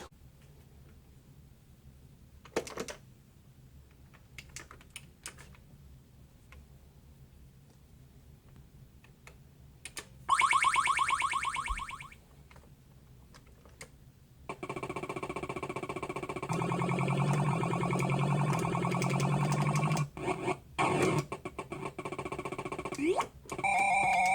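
Sounds from a Joust arcade game on an Arcade1Up cabinet: sparse clicks give way to a loud burst of tonal game effects, then a dense, steady run of electronic game sound with flapping and buzzing effects near the end.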